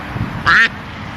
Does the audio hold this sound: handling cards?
no